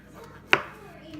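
A single crisp knife cut through a mushroom cap onto a cutting board, one sharp close tap over quiet room tone.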